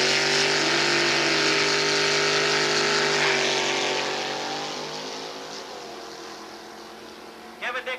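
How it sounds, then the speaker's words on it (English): Drag race launch at Gimli, a Pinto and Kevin Dick's dragster, with loud sustained engine roar that fades gradually as the cars pull away down the strip, ending with a couple of brief bursts. "See if Dick's dragster can chase him down"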